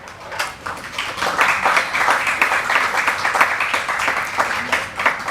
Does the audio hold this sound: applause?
yes